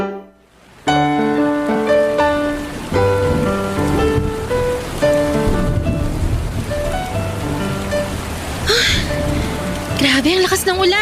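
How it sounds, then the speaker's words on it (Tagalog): Heavy rain pours steadily in the background, with a loud, continuous wash under music and voices in a dramatized scene. "Grabe, ang lakas ng ulan."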